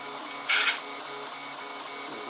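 A 3D printer runs blue filament with a 220° nozzle and a 30° heated bed, its steady whirring and stepper-motor hum broken by one brief louder hiss-like burst near the start.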